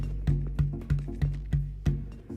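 Seven evenly spaced strikes on a drum shell from the R40 tour kit, each a sharp attack followed by a deep, short-lived tone, close and clear.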